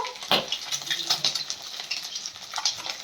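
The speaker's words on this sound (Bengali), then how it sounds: "আর এখানে আমার মা এখন ইলিশ মাছ ভাজছে" Hilsa fish fries in a pan in a home kitchen, with a soft sizzle under close metallic scrapes and clinks of a spatula or utensil stirring and turning it, in irregular bursts.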